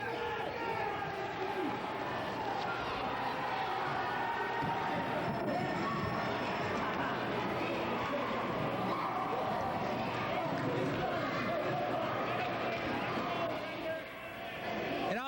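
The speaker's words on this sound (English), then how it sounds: "the crowd here is so noisy." Dense, loud crowd roar fills a 1986 high school hockey rink during Holliston versus Westwood, constant shouting and cheering throughout with no letup, with a commentator talking over it.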